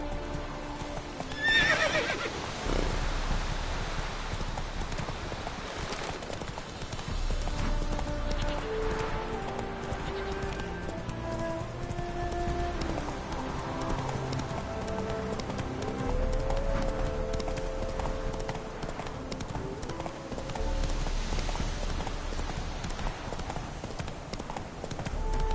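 Roach, the horse in The Witcher 3: Wild Hunt, gallops with continuous rapid hoofbeats and lets out a whinny, under a soft ambient game backdrop.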